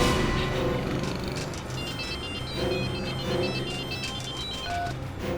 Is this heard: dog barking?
no